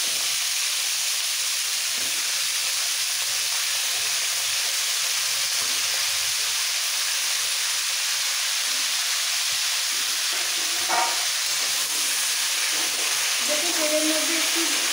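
Radish, carrot, ridge gourd, beans, eggplant and pointed gourd fry together in hot oil with a steady, close, loud hiss and sizzle throughout, broken by occasional faint stirring scrapes.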